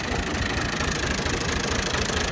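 An Al-Ghazi tractor engine runs close and loud with a rough, knocking, continuous rumble, steady throughout without pause.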